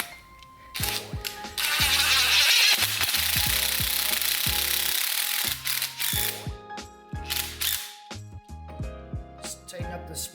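A ratchet clicks in quick bursts and steady runs while valve springs are tightened onto an LQ4 V8 cylinder head, close and fairly loud, with metallic clinks of parts between the strokes.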